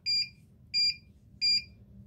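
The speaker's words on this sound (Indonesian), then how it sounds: "alarm berbunyi dan kipas berputar" Ammonia gas detector alarm in a chicken coop gives three evenly spaced high electronic beeps, each about a quarter second long, over a low steady fan hum.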